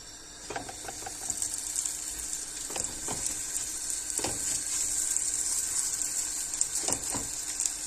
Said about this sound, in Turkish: Şimdi tavaya koyacağım. Kızdı. Şimdi katmerimi atıyorum.